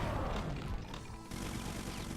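Dense rapid gunfire from chain gunners in a Doom-style game, a continuous loud rattling barrage with a brief dip midway, heard close.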